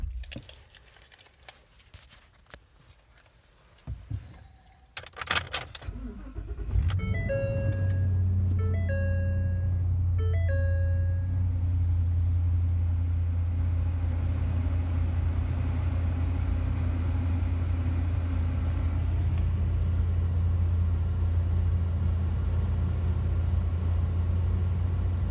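2013 Ford F-250 Super Duty Lariat crew cab 4x4 starts after a few clicks and door-chime beeps, then settles into a steady, deep, rumbling idle that holds loud and close, with no talk.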